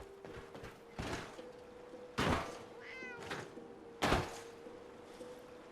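Meowing of a cat in the Fallout 4 Far Harbor game, a few short calls spread out over steady game ambience, with a soft thump in between.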